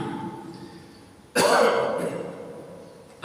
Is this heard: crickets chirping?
no